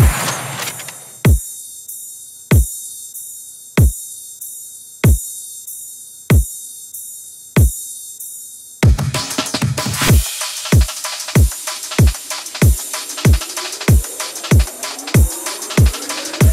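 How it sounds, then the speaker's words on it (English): Electronic drum pattern: a sparse, evenly spaced kick-like hit under a high hi-hat wash, then a busier breakbeat with hi-hats, rides, white-noise fill and rising risers, loud and continuous with no voices. "Altogether, the drums will sound like this."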